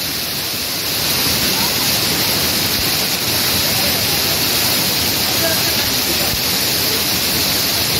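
The Tons waterfall near Rewa roars as water falls and sprays. The rush is loud and steady, with a constant broadband hiss that holds throughout.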